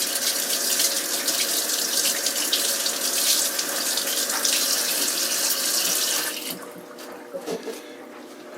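Cold water runs steadily from a kitchen tap for about six seconds, a loud continuous hiss that then drops off to quieter dribbling and handling noises.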